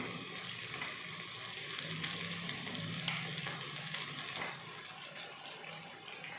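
Boiled, drained pasta being tossed with masala and tomato ketchup in a hot pan, giving a steady crackling sizzle with faint scraping stirs throughout, fairly quiet and without speech.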